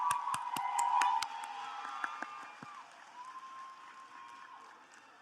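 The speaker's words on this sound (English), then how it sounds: "So let's give her another round of applause." An audience applauds, a burst of clapping that swells briefly and then fades away over a few seconds.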